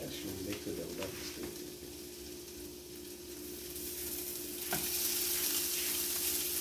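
Sardines and vegetables fry side by side in a skillet over a fire in Cameroon, giving a constant close sizzle that swells louder near the end, with a few stirring taps.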